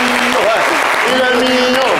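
A French TV game show audience applauds a contestant who found the answer, clapping under a sustained tonal line of music or voice.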